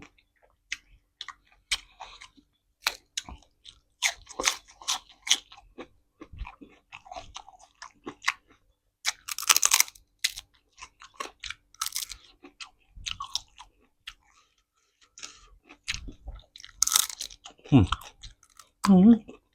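Someone chews crunchy som tam with fresh shrimp and hot-air-baked chicken feet, producing loud, close crunches and bites in irregular bursts separated by short pauses, with a few soft murmurs.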